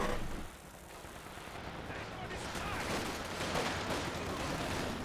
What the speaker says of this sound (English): Lots of bullets into the infiltration commandos.